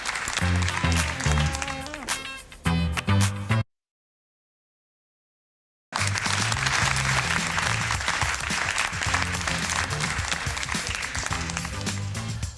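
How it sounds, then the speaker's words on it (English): A canned applause effect triggered from a button on a talk show sounds after a short musical sting and a brief silence, then runs as a loud, steady burst of crowd clapping. "Evan, that's where you hit the applause button."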